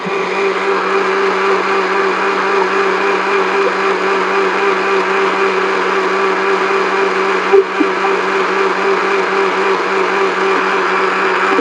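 A blender runs steadily and loudly, grinding a mixture finer, with a continuous even whine and no talk over it.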